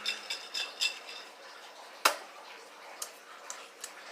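A stir stick clinks lightly against a glass while mixing a hot sauce infused screwdriver with orange juice, a few faint ticks early on, then one sharp tap and scattered light clicks.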